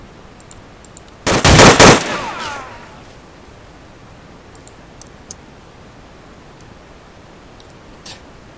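A short, loud burst of machine-gun fire from the war strategy game Men of War, set in a modern Russia-Ukraine conflict, lasting about a second, then a few faint scattered clicks over quiet background.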